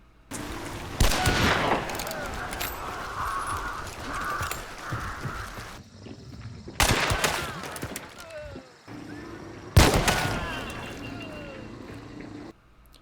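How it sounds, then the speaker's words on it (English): In Hunt: Showdown, three heavy gunshots ring out several seconds apart over steady in-game ambience, each followed by a long fading tail, with faint hit-marker clicks following the headshots. "The second and third shots were headshots. Whenever you kill somebody with a headshot in Hunt, this hit marker will play."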